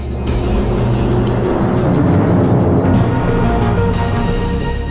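A car speeds away at night chasing a bus through a Budapest street, its engine loud and close as it revs and accelerates hard, with a faint tire squeal.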